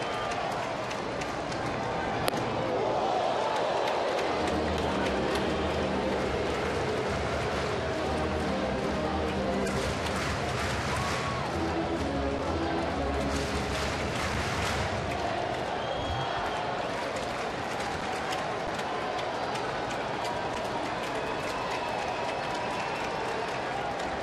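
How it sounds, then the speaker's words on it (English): A big crowd at a Monday night Reds baseball game in Cincinnati murmurs steadily in the background, a broad continuous hum with a couple of swells of cheering, while an announcer talks over it. "There's a big crowd here tonight for a Monday night."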